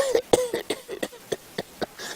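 A person imitates a baboon's cough, voicing a rapid series of about nine short, rough, hoarse bursts in an uneven rhythm, close and fairly loud, with brief gaps between them.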